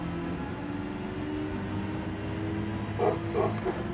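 A few distant dog barks in quick succession near the end, over a continuous engine-like drone from Gran Turismo 7 racing.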